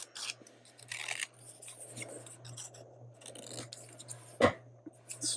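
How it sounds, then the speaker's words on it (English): Scissors fussy cutting around a picture on a book page for a handmade envelope, with soft intermittent snips and paper rustling close up, a low steady hum underneath and a sharp tap near the end. "I'm gonna have to fussy cut"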